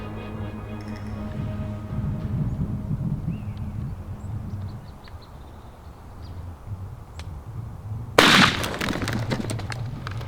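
A single loud gunshot fired at a Rio turkey through mesquite brush during a hunt, a sharp blast with a brief rattling tail, after several seconds of steady outdoor background rumble.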